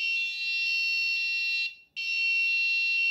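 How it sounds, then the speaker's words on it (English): A shrill electronic buzzer on an Arduino ultrasonic distance sensor project (HC-SR04) beeps loudly and steadily, cutting out briefly before resuming, with no voices. "Now I am holding this object closer to the buzzer."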